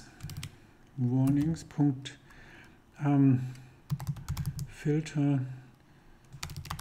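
Computer keyboard typing Python code, with short bursts of key clicks at the start and end and someone speaking German over most of it.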